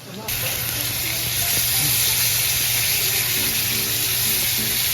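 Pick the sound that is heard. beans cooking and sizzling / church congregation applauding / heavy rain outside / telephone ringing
beans cooking and sizzling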